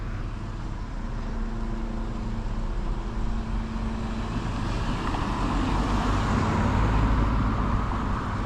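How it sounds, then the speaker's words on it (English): Road traffic rolling past a curbside spot during street scrapping, a steady broad rumble of vehicles that holds the whole time and swells toward the end as a vehicle passes close. "Wait for the traffic."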